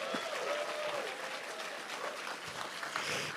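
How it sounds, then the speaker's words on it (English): Audience applause for actor Rhys Evans at a House of the Dragon awards-consideration event, a dense, sustained clapping from a large crowd that holds steady for the full few seconds. "please give a big round of applause for Rhys Evans"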